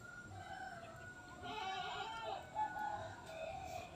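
Free-roaming village chickens heard faintly at a distance, with soft clucking calls and animal bleats from goats in the background, low and intermittent against quiet outdoor ambience.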